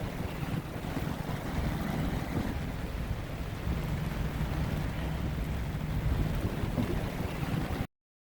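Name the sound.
boat running on the water in rain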